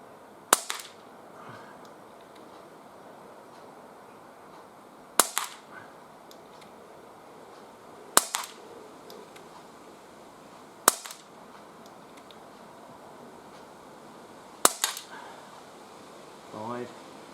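A Umarex SPA Expert CO2 pistol fires five sharp cracks at a target spaced several seconds apart, each followed by a faint metallic impact, over steady gusty wind outdoors.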